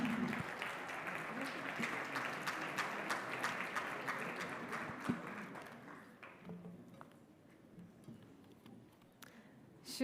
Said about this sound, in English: A round of applause for Mr. Mbonang Mohale.